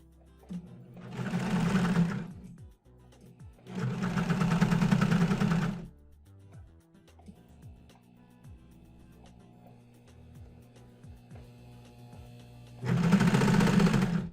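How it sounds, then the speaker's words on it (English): An overlock serger stitches fabric for a face mask, with three loud steady mechanical whirring bursts separated by quieter gaps of handling and faint clicks. "I like it better when I sew the two pieces together first, then come back and serge the whole thing"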